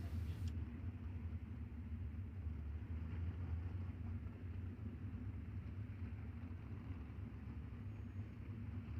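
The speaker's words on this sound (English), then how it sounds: "And cars now getting fired up on the back straightaway." Dirt track race cars at Lucas Oil fire up their engines on the back straightaway, a steady, distant low rumble that holds evenly throughout.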